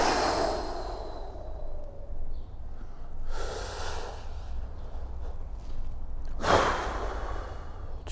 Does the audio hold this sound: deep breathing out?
yes